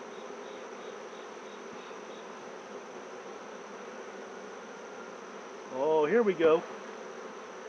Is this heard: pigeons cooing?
no